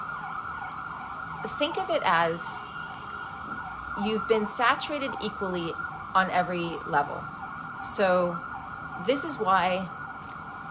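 Emergency vehicle sirens wail outside in repeated rising and falling sweeps, clearly audible but somewhat distant, running beneath a person speaking indoors.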